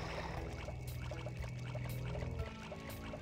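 Water splashing and gurgling as a character in Sly Cooper and the Thievius Raccoonus drops into water, a soft, low-level pour with faint trickling.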